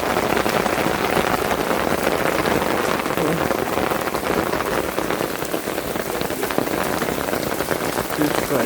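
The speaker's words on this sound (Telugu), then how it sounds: "ఫుల్ వాన వస్తుంది" Heavy rain pours down in a village, a dense, constant hiss and patter of drops hitting surfaces that holds steady and loud throughout.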